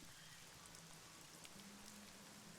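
Steady rain falls in a soft, even hiss over a surface, with faint scattered drops and a low background hum, used as an eerie ambient bed with no voices.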